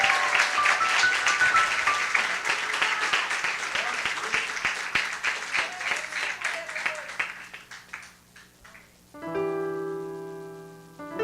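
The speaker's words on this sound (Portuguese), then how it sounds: "Aplauda o Senhor com alegria, com disposição" Congregation applauding in a church service for about eight seconds, a dense steady patter of many hands under faint voices, fading out before music or a sustained tone takes over near the end.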